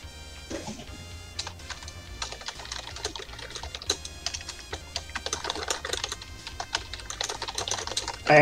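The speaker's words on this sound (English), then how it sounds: "Yeah, I am also typing" Fast typing on a computer keyboard fills the clip with dense, irregular clicks and clacks, close and continuous, over a soft low background hum.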